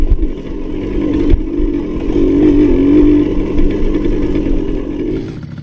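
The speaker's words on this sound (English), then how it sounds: "The Honda MBX80." A Honda MBX80 80cc two-stroke motorcycle engine buzzes loud and close, with a sharp knock early on, then a brief rev rise and fall before settling back to a steady, raspy drone.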